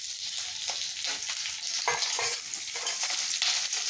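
Onion and capsicum stir-fried in a pan, a steady close sizzle with repeated scraping stirs of the spatula and no voices.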